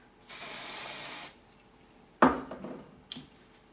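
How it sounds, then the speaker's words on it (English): A long steady hiss of aerosol dry shampoo spray lasting about a second, followed by a few short rattling knocks as the can is shaken and a brief second spritz onto a scalp. "I'm going to shake up the dry shampoo and then I'm going to spray it right on her scalp"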